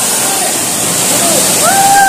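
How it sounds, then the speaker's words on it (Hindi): Namaste Jharna waterfall in Dharan, Nepal, roars as a loud, continuous wash of falling water close by, with faint whistle-like tones drifting over it. "ये देख रहे हैं किस तरीके से पानी गिर रहा है"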